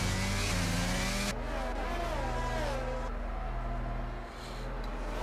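Race cars lapping behind the safety car at Imola in F1 22 give a steady, droning engine hum with a few rising and falling revs, the pitch shifting as one car's tone drops away early on.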